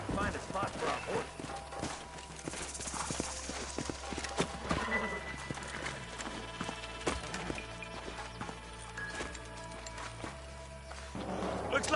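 Hooves clip-clop steadily with a horse whinnying amid a Red Dead Redemption game soundscape, while voices talk over the top.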